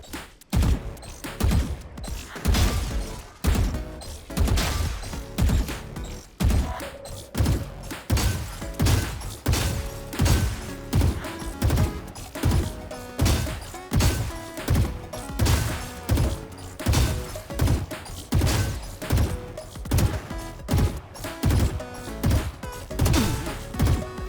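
Valorant gunfire against practice bots: a long series of sharp, evenly spaced shots and short bursts, loud and steady with no talking.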